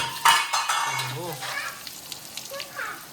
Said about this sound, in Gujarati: વઘાર મારવા માટે તૈયારી કરી દીધી છે તલ અને રવી ઉંડે નાખી દીધો